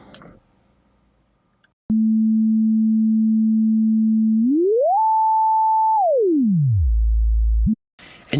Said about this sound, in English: See that I can manipulate the frequency of the oscillator.